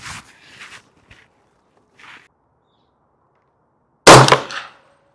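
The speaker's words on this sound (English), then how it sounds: "I'm going to be shooting the lower right target" Single sharp gunshot from a PSA Jakl 300 Blackout 8.5-inch pistol fired at targets, loud and close with a short ringing decay, preceded by a few faint clicks and handling sounds.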